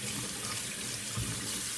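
Water pours steadily over a boot treated with Nanoman waterproofing spray, a continuous close splashing rush like a heavy downpour.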